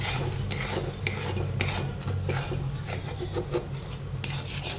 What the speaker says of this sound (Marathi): हे असं घट्ट व्हायला लागलेले तर त्याला सतत हलवत राहायचं